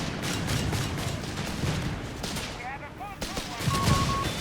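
Automatic FG-42 rifle fire from German paratroopers in Company of Heroes 3, a dense, continuous rattle of gunfire layered with battle noise and brief whistling tones, steady and loud across the whole stretch.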